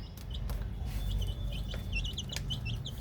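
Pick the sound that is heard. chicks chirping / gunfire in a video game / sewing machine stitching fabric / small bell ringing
chicks chirping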